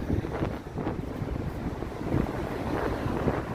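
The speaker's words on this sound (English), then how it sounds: "I think this wind can take a hike." Strong wind blows across a microphone on a city street in North York, Toronto, giving a steady, loud rumbling buffet with gusty swells and no other clear sounds.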